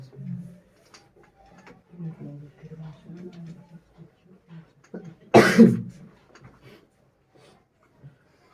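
A single sharp cough bursts out partway through, loud and close, between stretches of quiet, murmured Hindi speech in a classroom lesson.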